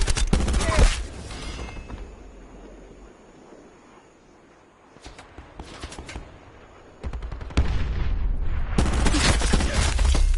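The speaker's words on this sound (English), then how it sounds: "I shot the dude behind him" Gunfire bursts from the multiplayer video game Call of Duty: Black Ops 4, loud volleys at the start and again from about seven seconds on, with a quieter stretch of distant game ambience between them.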